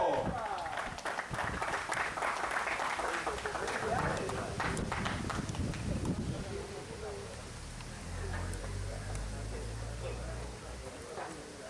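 A crowd claps at a product auction after a lot sells. Busy clapping runs through the first half, mixed with voices talking, then gives way to quieter talk and a low background hum.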